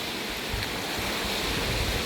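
River water in a rural province rushes steadily as a loud, continuous hiss and roar of flowing current, close by and unbroken throughout.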